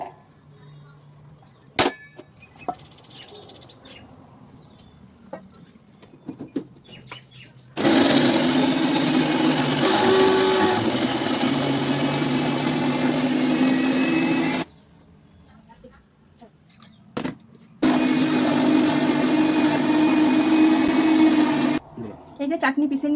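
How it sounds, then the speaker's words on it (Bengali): Electric mixer grinder blending soaked chana dal, peanuts and coconut into a chutney paste, running loud in two steady bursts of several seconds each with a short pause between, after quieter kitchen clinks. "চাটনি বানানোর জন্য এটা একটু পেস্ট বানিয়ে নেব।"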